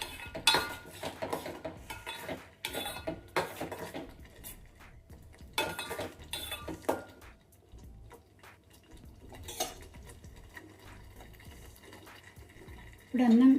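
A spoon scrapes and knocks around a pot of jaggery rice prasadam as it is stirred, making intermittent clattering strokes between quieter stretches, with a voice speaking briefly near the end.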